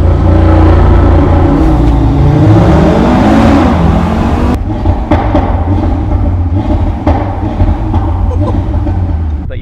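Audi RS3 saloon with a 2.5-litre turbocharged five-cylinder engine revving loudly close by, a deep rising growl that climbs and then drops off abruptly into a rumbling idle with a few short blips.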